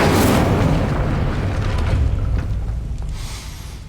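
A fire spell blast in Hogwarts Legacy, erupting as a loud whooshing burst of flame up front, then a roaring rumble that slowly fades, ending in a soft hiss.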